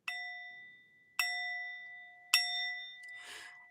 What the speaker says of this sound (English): Let me ring the bell for you one more time.